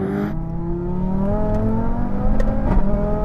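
BMW M5, Audi RS3 and Porsche 911 Turbo S accelerating hard in a third-gear rolling race from 50 mph, a loud steady engine drone with rising harmonic whine, close and continuous.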